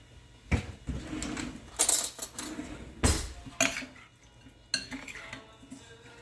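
Salsa seasoned with salt and cayenne being stirred in a bowl, heard as a series of close, irregular clinks and scrapes of a utensil against the bowl, with quieter pauses between strokes.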